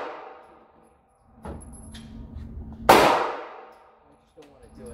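A single sharp, loud shot from a Ruger SR1911 10mm pistol cracks out near the middle, followed by a short decaying ring, with quieter handling noises before and after.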